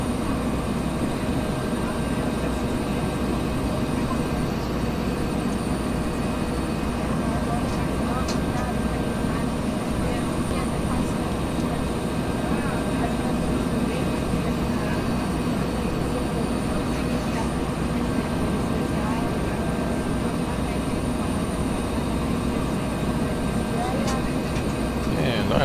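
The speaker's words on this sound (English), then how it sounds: "the helicopter, the BELL412, has performed absolutely flawlessly." A Bell 412 helicopter in an X-Plane 11 flight drones with a steady, loud engine and rotor roar that never lets up, and a voice is faint underneath.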